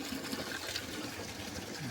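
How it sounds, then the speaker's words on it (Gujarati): Cold water flows continuously on a mountain trek toward Madhyamaheshwar, a steady close rush and gush of running water with no voices over it. "પાણી આવે છે મસ્ત મજાનું ઠંડુ ઠંડુ"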